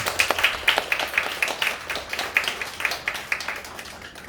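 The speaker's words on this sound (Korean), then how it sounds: "큰 박수 부탁드리겠습니다" A church youth-service congregation gives a modest round of welcoming applause for a speaker, a light, evenly paced patter of clapping from a small group that fades slightly toward the end.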